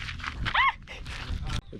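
A small puppy lets out a brief high yip amid household noise and overlapping talk during a family evening in the Guajira desert, followed by scuffling sounds.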